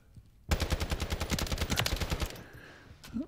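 Rapid automatic gunfire from a Hemlock rifle in a video game, a loud close burst of evenly spaced shots lasting about two seconds before cutting off, followed by faint game sounds.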